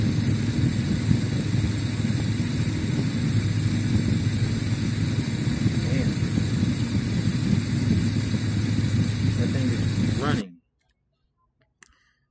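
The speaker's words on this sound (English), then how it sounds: "Let's see what the motor sound like." A 1973 Chevrolet Caprice engine runs steadily and loudly for about ten seconds with a constant rumbling drone, then cuts off abruptly into near silence.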